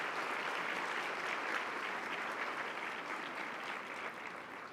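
Clapping from a luncheon audience at a LULAC women's event, steady and fairly soft, as if heard from a distance in a large room, sustained without pause and tapering slightly near the end.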